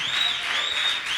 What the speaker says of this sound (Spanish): Aplauso fuerte para el Señor